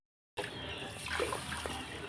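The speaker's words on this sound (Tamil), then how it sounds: "இப்போ இந்த தண்ணியே இதில் ஊற்றவா?" Water pours steadily out of a pot while rice is washed for Pongal cooking, a continuous close rushing splash with a slight gurgle.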